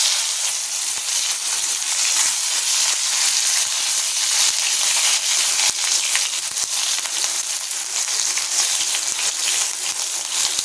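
Capsicum frying in mustard oil with dried red chilli and black cumin seeds, a loud steady sizzle with bright hiss and scattered crackling pops throughout, close up with no speech.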